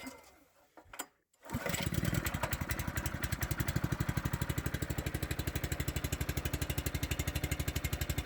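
A gas-powered pump engine with a choke, used by a beekeeper, sputters briefly and then catches, settling into a fast, steady, close-up putter that runs loud and even to the end.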